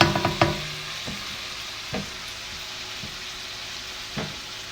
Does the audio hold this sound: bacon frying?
yes